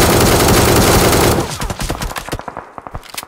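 Sustained burst of rapid automatic gunfire in the mobile battle royale game PUBG Mobile, loud and dense at first, then breaking into scattered individual shots and short bursts that thin out toward the end, with no talking.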